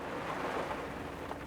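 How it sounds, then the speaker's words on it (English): Steady rain pours down with a low rumble of thunder blended in, an even, dense wash of sound with no voices over it. "Even though it's raining, but I had to bring this to you."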